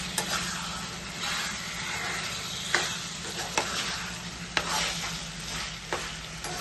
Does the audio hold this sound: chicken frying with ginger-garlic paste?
yes